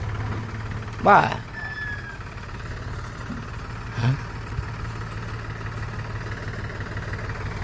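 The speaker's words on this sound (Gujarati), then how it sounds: "જો આ ટ્રેક્ટર આવી ગયો હે કાકરીનો ભરાઈને" A tractor loaded with gravel idles with a steady low engine drone, someone speaking briefly nearby over the constant rumble.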